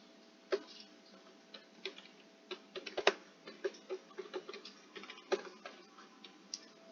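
Keys on a computer keyboard clatter in irregular light clicks and short bursts during a Java coding lesson, close and alone with no talking.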